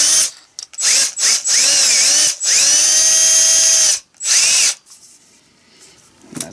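A cordless impact drill whirs close up in several short bursts, its motor pitch rising and dipping, with one longer sustained run before stopping.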